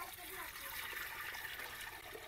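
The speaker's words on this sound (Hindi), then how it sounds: "सबसे पहले हम इसमें डाल देते हैं पानी।" Water poured into a cooking pot to start a one-kilo chicken biryani in a mud-house kitchen, a steady broad splashing rush lasting the whole moment, fairly close and moderately loud.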